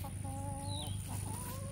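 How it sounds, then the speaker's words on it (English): Chickens cluck softly nearby, a few short throaty calls overlapping at a quiet level. "The chickens think I'm about to give them some of the veggies."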